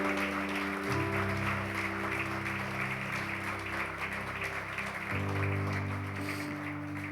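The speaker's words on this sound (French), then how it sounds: "Est-ce qu'on peut applaudir le Seigneur Jésus ce matin?" A congregation applauding during a church service: soft, continuous clapping heard faintly under sustained keyboard chords throughout.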